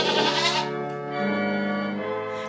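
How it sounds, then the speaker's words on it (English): Goats bleat in long, wavering cries along with an organ playing the Christmas carol O Come All Ye Faithful, the sustained organ tones and animal voices blending closely. "those are goats singing along to O Come All Ye Faithful"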